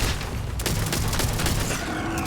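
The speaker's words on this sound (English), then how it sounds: "I hear another person shooting." Gunfire in the video game Starfield, a burst of overlapping shots and booms that roll on continuously for a couple of seconds at close, loud level.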